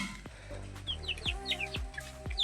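Pigeons calling in short, bright bursts, with sharp low knocks and thuds recurring underneath, close by and moderately loud.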